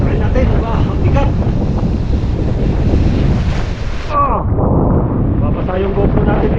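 Strong sea wind roars against the microphone alongside crashing surf and high waves during net fishing off a boat, a loud, steady, unbroken wash of noise throughout.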